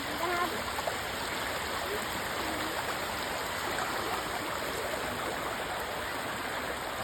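A constant, rushing roar of fast-flowing floodwater after heavy typhoon rain, steady and moderately loud, with faint indistinct voices barely audible in the background.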